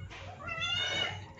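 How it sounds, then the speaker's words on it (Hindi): A cat gives a single drawn-out meow, close and fairly loud, rising then falling over about a second, with quiet background noise. "बिल्ली इतना सिला रहा है यार"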